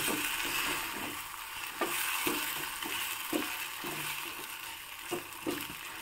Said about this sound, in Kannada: ಈಗ ಚೆನ್ನಾಗಿ ಒಮ್ಮೆ ಹಾಕಿರೋ ಒಗ್ಗರಣೆ ಜೊತೆಗೆ ಈ ಚಟ್ನಿನ ಮಿಕ್ಸ್ ಮಾಡಬೇಕು